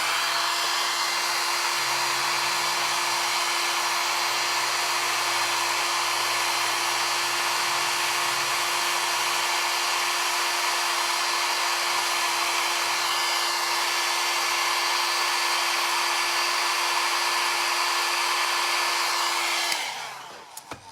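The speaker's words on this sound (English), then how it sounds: "I'm gonna go ahead and blow dry again." A hair dryer blowing hair dry, running as a loud, steady whooshing drone with a constant high motor whine for about twenty seconds before abruptly switching off.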